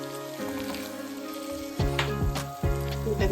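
A creamy garlic and chilli tagliatelle sauce is stirred as it sizzles in a pan. The soft hiss runs under tonal background music, with a few louder stirring bursts.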